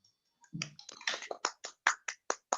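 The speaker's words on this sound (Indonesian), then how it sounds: "Tepuk tangan untuk temannya." Scattered claps from a small group of fourth-grade classmates in an elementary classroom, a dozen or so distinct sharp claps in an uneven rhythm, close and fairly quiet, with no talking.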